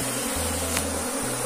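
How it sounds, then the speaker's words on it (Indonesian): A dense swarm of Apis cerana honey bees moved from the wild, buzzing steadily and close in a continuous drone with no talk. "Mereka itu keluar masuk banyak seperti bergerombol melakukan swarming seperti ini"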